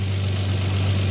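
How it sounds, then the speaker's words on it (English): A 1997 Toyota Camry engine idles with a steady low hum and even vibration, close and continuous for about a second with no voices. "this is like a great engine right here"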